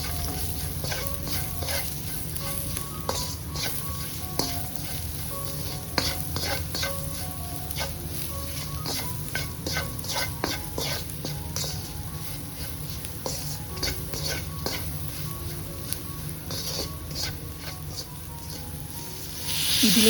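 A spoon stirring chicken curry with turmeric and salt in a hot pan, with steady sizzling and repeated scraping strokes, close and continuous.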